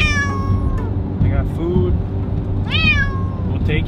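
A cat meows twice, loud and close, with drawn-out rising cries over the steady rumble of a moving car.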